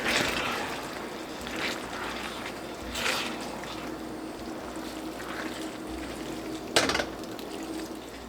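Cooked spaghetti is stirred into sauce in a pot, soft wet stirring punctuated by a few louder scrapes and clinks of a utensil against the pot, close by with no talk.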